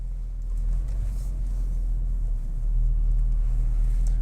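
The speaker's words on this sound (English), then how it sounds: "we're going to go ahead and put it in reverse here and ease our way out" A 2010 Mercedes-Benz E63 AMG idles with a low, steady rumble, growing slightly louder as it slowly reverses out, with no talking.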